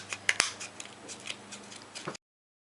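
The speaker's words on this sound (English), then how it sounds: "Get in a little closer with my smaller pair of scissors." Small scissors snipping close up, a few sharp crisp cuts followed by softer quick clicks, quiet otherwise, ending abruptly.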